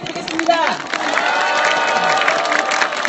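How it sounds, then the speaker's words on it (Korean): A crowd applauds and cheers at an outdoor Wednesday protest rally against the comfort women agreement. The clapping is dense and continuous, mixed with scattered shouts. "우리 평화나비를 향해서도 다시 한번 격려와 지지의 박수 부탁드리겠습니다"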